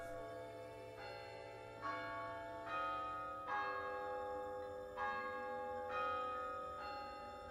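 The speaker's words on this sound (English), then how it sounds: "the cathedral bells rang out across the kingdom" Cathedral bells in the medieval strategy game Swords of War peal across a kingdom, several resonant bell strikes arriving at a slow, steady pace, each ringing out and decaying over a low sustained drone, moderately faint.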